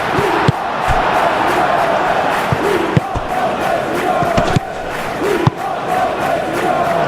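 Stadium crowd ambience in the Football Life 2026 video game, a steady loud roar of spectators with swelling cheers and a few sharp thuds, continuous throughout without audible talk.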